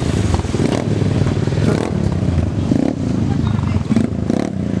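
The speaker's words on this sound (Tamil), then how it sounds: "You can see the kids riding the dirt bikes." Kids riding dirt bikes at a motorcycle supercross event in Coimbatore, engines buzzing and revving loudly and continuously nearby, with crowd babble and a person talking over the din.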